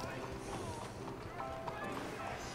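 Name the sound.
horse hooves in video game Red Dead Online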